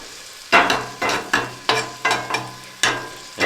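Onions frying in a pan over a heat source in a tiny cabin, stirred with a utensil in a steady rhythm of about two scrapes per second over a low sizzle, close and fairly loud with no talking.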